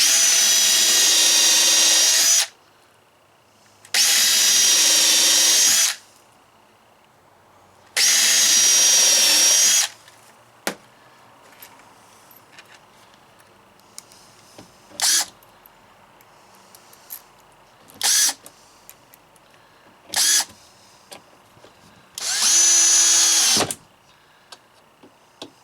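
A power drill drives screws into wall framing inside a Promaster 2500 van, sounding in four loud bursts of a few seconds each, separated by quiet pauses with brief clicks and knocks.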